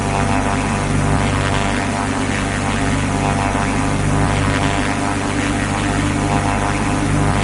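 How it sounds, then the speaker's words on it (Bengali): A propeller airplane engine from a video game drones steadily and loudly in flight, a constant harsh roar with a low hum and no talk. "প্লেনের আওয়াজটা ভালো করে একটু শুনুন"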